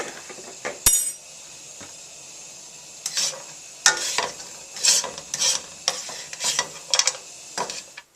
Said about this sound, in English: put the carrots in your wok and then just stir fry for about a minute